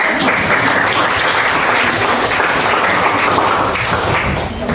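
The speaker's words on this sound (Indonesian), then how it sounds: "Tepuk tangan." Children in a classroom clap their hands together in a steady, dense burst of applause that carries on evenly for several seconds and fills the room at close range.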